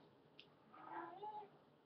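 A house cat meowing indoors, one faint drawn-out meow with a slight wavering rise and fall, distant and soft against a low background hiss, with no talking.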